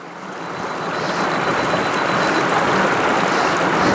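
A waterfall in the Ouachita Mountains near Shady Lake, Arkansas, rushes with a steady, broad roar that swells in over the first second and then holds constant, with no talking.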